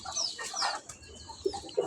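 Pet pigeons come out one by one to feed, giving soft, close coos and fluttery chirps with a few brief pecking taps, all fairly quiet and without talk.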